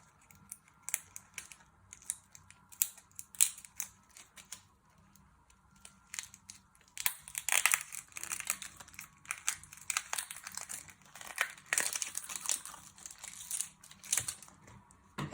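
Dry outer skin layers peeled off an onion in a kitchen, a close run of papery crackles and crinkles, sparse at first and then denser and busier, with no talking.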